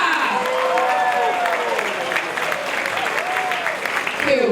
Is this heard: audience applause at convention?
yes